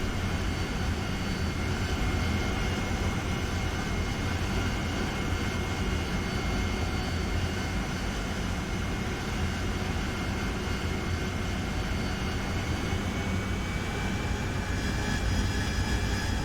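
A jet aircraft's engine roars steadily through a descending left turn in the DCS flight simulator, a loud, unbroken whine and rumble lasting the whole stretch with no talking.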